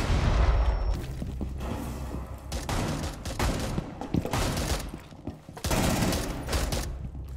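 Rapid F2 rifle fire in a video game, dense loud bursts of shots with heavy, booming reports and brief gaps, continuing throughout without talk.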